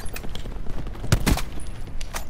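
Gunfire in Call of Duty Black Ops 4 multiplayer, a short burst of sharp shots in the middle of the clip over steady game background noise, with no speech.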